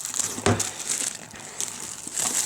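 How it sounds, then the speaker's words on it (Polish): Plastic foil wrap crinkling and tearing off a Splinter Cell Blacklist game box, a close, sharp crackle with one louder rip near the start, then lighter rustling. "Poszła folia."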